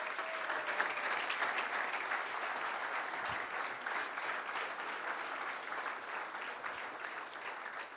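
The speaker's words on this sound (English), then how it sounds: "Let's give them a round of applause" A conference audience at the PMI Africa Conference 2019 applauds the event sponsors during the closing activities. Steady, dense clapping from a crowd continues for the whole stretch at moderate level.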